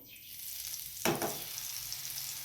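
Garlic paste dropped into hot oil with cumin, bursting into a sudden close, loud sizzle that settles into steady frying hiss.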